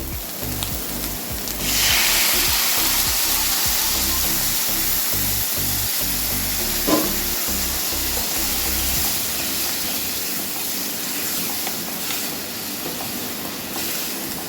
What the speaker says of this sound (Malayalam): ഇനി നമുക്ക് പാകത്തിന് വെള്ളം ഒഴിച്ചു കൊടുക്കാം